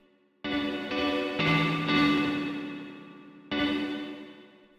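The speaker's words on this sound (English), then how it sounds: "Starting to sound a bit like reverb." Guitar or synth notes fed through a delay effect with a 16th-note time and high feedback, the repeats smearing into a reverb-like wash that swells with each struck note and slowly decays.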